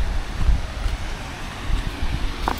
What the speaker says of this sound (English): It's actually very windy